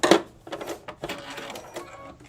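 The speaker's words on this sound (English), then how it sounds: "Do a little back stitch." A short back stitch on a sewing machine while edging an elastic channel, heard as brief close mechanical clatter with quick stops and starts.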